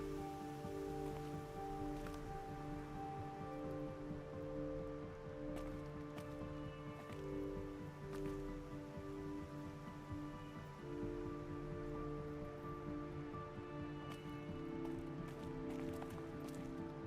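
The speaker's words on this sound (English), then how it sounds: "Been waiting for rain." Steady rain falls throughout in Horizon Zero Dawn, a constant even hiss of drops on surfaces with faint scattered ticks and no pauses.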